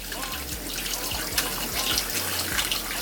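Cold tap water runs steadily into a sink while a whole cut-up chicken is being washed. Soft splashing and a few light knocks sound over the flow, close and fairly quiet.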